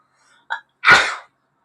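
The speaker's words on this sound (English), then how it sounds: "Sorry, I had to sneeze." One person gives a quick sharp intake of breath followed by a single loud, close sneeze, then silence.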